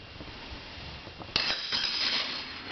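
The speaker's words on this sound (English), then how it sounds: "There goes all my sticks on the floor." A bundle of wooden sticks clatters onto the floor in a sudden burst of knocks and rattles. The rattling trails off over the next second above a faint room hiss.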